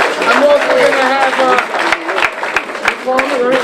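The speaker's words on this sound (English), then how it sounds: "What a rousing applause." Applause at a community center ribbon cutting, a steady crowd clapping that fills the whole stretch, fairly loud and close, with voices mixed in beneath it.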